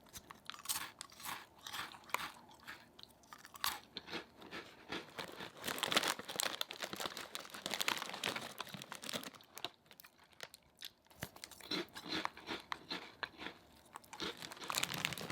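Small yellow salty cheese crunch crackers being chewed up close, a steady run of dry crunching and crinkling bites that keeps going with brief pauses and no talking.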